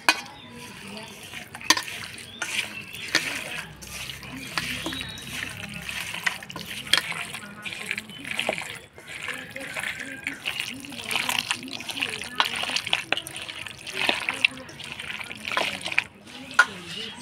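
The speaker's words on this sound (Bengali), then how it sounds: "এবার সরষের তেল দিয়ে মাংসটা ভালো করে মাখাই নিব।" Wet squelching and slapping as mutton is kneaded by hand with mustard oil, yogurt, turmeric, salt and spices, an uneven, close mixing sound with a person talking over it.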